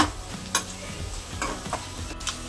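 Dry red chillies and curry leaves sizzle steadily in hot oil for a Telugu pesara pappu tempering, with a few sharp stirring clicks and pops over the continuous crackle.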